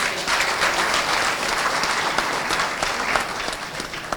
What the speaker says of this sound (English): the management under the leadership of the DA Adeni deserve a resounding applause